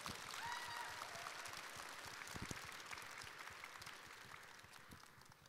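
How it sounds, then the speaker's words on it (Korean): An audience at a Korean outdoor talk concert applauds with steady, dense clapping that fades slightly toward the end, heard from a moderate distance. "박수 치세요. 막 치세요."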